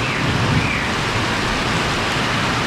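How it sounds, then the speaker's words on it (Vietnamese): Steady rain pours down in Binh Duong, Vietnam, a dense continuous hiss of drops on surfaces filling the whole stretch with no voices. "Cơn mưa này thì sẽ giải khát cho Bình Dương"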